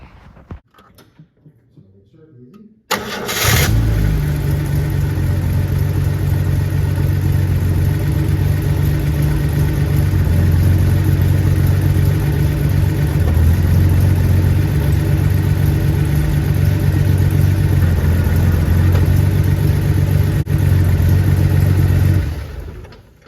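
A 1970 Jaguar E-Type engine starts at about three seconds and then runs steadily and loudly, with a low, even hum as it is put through first and reverse gears. There are slight changes in load but no big revs.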